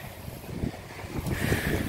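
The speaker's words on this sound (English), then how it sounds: "It's a bit windy today." Gusty wind blows outdoors on a patio during spray painting of an old patio umbrella, a steady rushing buffet against the microphone that rises in strength toward the end.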